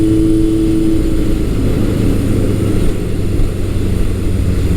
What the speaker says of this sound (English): currently the bike idles fine